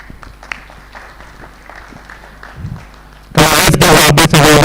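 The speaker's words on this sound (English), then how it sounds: "Let's give a bit of applause" Audience applause at a close-out event in Kenya erupts suddenly and loudly after a quiet stretch of low room noise, with dense, sustained clapping from a large crowd.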